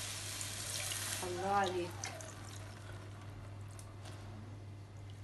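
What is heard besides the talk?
pouring sugar syrup over basbousa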